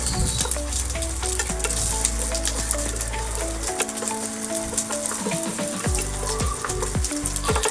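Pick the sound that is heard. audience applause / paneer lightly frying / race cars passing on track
paneer lightly frying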